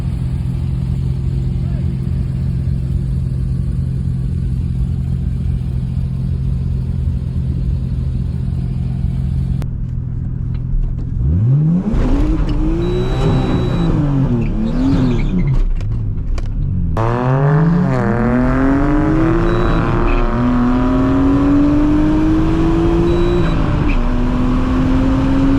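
A car roll racing at a drag strip: a steady engine drone, then repeated loud revving sweeps as the engine accelerates hard through gears and pulls away, with other vehicles roaring past and voices speaking over it.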